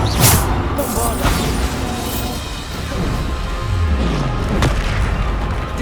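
Spell explosions in the Hogwarts Legacy game on PS5 produce loud, close booms and crashes with thuds and mechanical rumbling, several impacts spread across the stretch.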